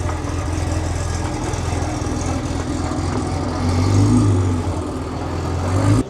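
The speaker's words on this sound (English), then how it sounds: "Jordan is rolling out the GT3." Porsche GT3 engine running steadily as the car rolls out at a Melbourne cars and coffee meet, a close, continuous low rumble that swells briefly louder partway through and again at the end.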